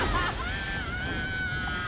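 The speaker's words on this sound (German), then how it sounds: "das Geschrei schon wieder." People screaming in the Saints Row III video game, a continuous shrill wailing cry that holds steady and loud over dense game noise for about two seconds.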